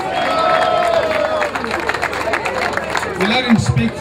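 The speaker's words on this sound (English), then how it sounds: "The big round of applause, ladies and gentlemen." Audience applause and cheering at a boat trip party, a dense burst of clapping from a crowd mixed with chatter and a few whoops, with voices nearby.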